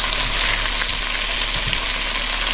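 Bangers and meaty bits frying in a pan with their juices for an Irish Dublin coddle, a steady close crackling sizzle with bursts of spitting fat throughout, no voices.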